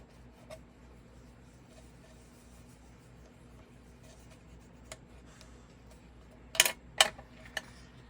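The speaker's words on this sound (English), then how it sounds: "I'm going to burnish it down." Quiet rubbing and scraping of a tool burnishing paper down onto chipboard, with a few sharper scratchy strokes near the end.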